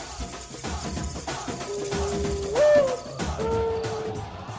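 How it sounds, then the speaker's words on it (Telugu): An owl hoots a few times nearby, drawn-out tonal calls rising above a dim background hiss. "అది గుడ్లగూబ, భయపడకు."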